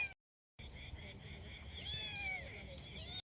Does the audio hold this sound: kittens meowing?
yes